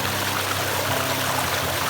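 River water from the East Fork San Gabriel River rushes steadily into a gold trap sluice, a loud, continuous broadband flow with no breaks or voices.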